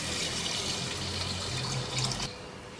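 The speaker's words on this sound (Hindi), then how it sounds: "अब इसमें शामिल करेंगे 7 से 8 कप पानी के" Water poured into a cooking pot of mutton trotters (goat paya), a steady rushing splash that thins out near the end, close by and alone.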